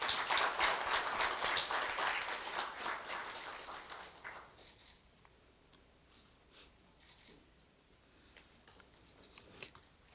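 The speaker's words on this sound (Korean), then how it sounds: "큰 박수 부탁드리겠습니다." An audience at a university staff retirement ceremony breaks into brisk applause that fades after a few seconds, leaving a quiet room with scattered faint taps and a few stray claps near the end.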